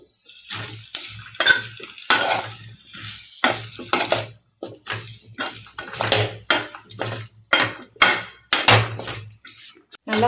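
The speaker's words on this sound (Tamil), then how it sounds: "நல்லா பரட்டி விட்டுக்கோங்க" A ladle stirs homemade sambar in a metal pot, scraping and clinking in a steady, uneven rhythm of close, sharp strokes with brief liquid sloshes.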